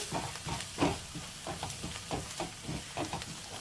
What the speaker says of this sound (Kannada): ಈಗ ಡ್ರೈ ಮಸಾಲ ಹಾಕ್ಕೊಂಡು ಚೆನ್ನಾಗಿ ಫ್ರೈ ಮಾಡ್ಕೊಳ್ಳಿ ಆಯಿಲಲ್ಲಿ